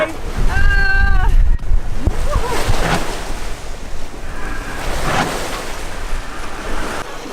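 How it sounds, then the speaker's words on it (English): Waves on Lake Erie surge against a sailboat near Point Abino, a rushing wash with heavy wind noise, while people shout and talk excitedly over it. "Watch out, big wave!"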